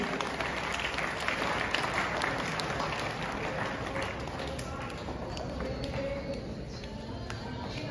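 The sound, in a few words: applause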